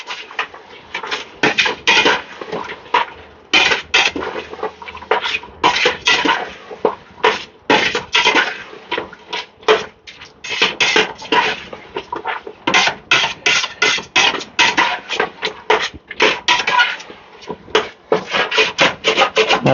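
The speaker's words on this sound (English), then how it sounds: "And give that a good mix through." A spoon scrapes and knocks around a cooking pot while chili, garlic and ginger are stirred, giving close, loud, irregular rubbing strokes with short gaps between them and no talking.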